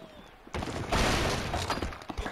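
An explosion in the Angry Birds Friends game bursts in suddenly as a loud, crashing, shattering blast that rumbles on with debris-like clatter for about two seconds.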